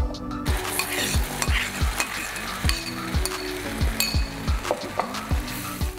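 Onion-tomato chutney paste hits hot oil tinted with red chili, giving a steady sizzle under repeated rhythmic stirring scrapes of a spoon against the pan, close and alone with no talk.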